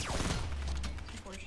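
Gunfire in the Fortnite video game, a dense burst of loud rapid shots and thumps in a brief, busy passage.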